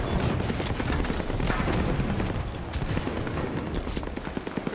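Gunfire in the Halo 5 Warzone Turbo game around an outpost, with a dense, loud barrage of shots and booming blasts that could include a grenade explosion, the firing rattling continuously throughout.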